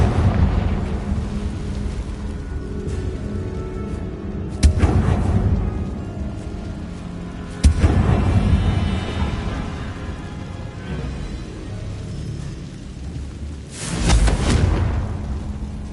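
Confringo explosive spell blasts in the Hogwarts Legacy video game inside a tomb, loud booming detonations at three points over a continuous low rumbling background, with no talking.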